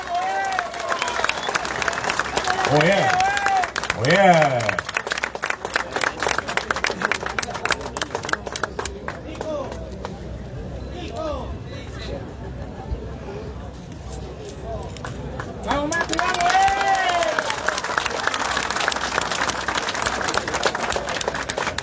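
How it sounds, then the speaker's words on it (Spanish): Crowd applause and cheering break out at a Vuelta Ciclista del Uruguay 2024 awards ceremony after stage 4, Vergara to Melo. Claps rise, ease off and swell again near the end, with an announcer talking throughout. "A ver ese aplauso, a ver la hinchada."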